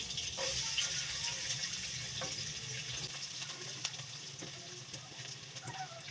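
Garlic frying in melted butter and oil, a steady broadband sizzle with faint stirring scrapes and small pops throughout, close and continuous with no talking.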